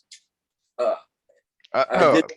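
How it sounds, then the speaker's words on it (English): A person burps during a conversation: a few short throat sounds, then one louder, longer eructation near the end, close and clear against otherwise quiet surroundings. "I'm really sorry about that burp"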